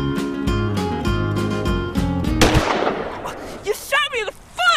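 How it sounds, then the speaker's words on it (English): A single loud gunshot bursts out in a staged shootout, cutting through a musical tone, with a raised voice exclaiming just after the blast. "I can't believe you shot me!"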